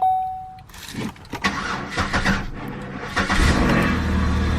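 A Chevrolet Impala 9C1 with a previously dead battery cranks and fires up, its engine catching after a few rough turns and settling into a loud, uneven running idle close by.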